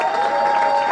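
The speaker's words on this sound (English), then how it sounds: "One more round of applause for our amazing team" Applause and cheering from a crowd at a community business celebration honoring grantees and a team, a steady dense wash of clapping lasting about a second, close and fairly loud.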